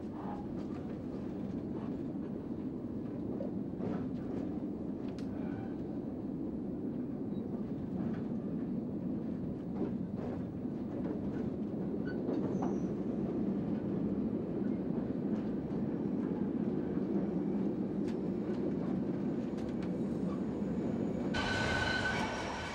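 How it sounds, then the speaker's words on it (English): The Venice Simplon Orient Express British Pullman pulls into a harbour station platform, giving a steady rolling rumble with faint rhythmic wheel clicks and a brief high wheel squeal near the end. No one speaks. "The Venice Simplon Orient Express British Pullman pulls onto the station platform."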